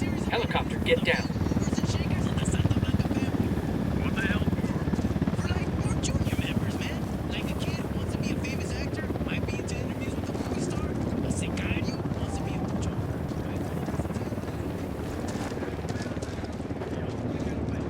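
A helicopter in the Ghost Recon Wildlands video game flies nearby, giving a steady, loud rotor rumble and whir that lasts throughout, mixed with other game sounds.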